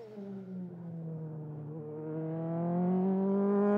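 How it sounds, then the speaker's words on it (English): A Euroformula single-seater race car at Silverstone howls through the gears, its engine note falling then climbing steadily in pitch and loudness as it accelerates, heard alone at moderate distance. "Just listening to the engine note compared to a lap ago."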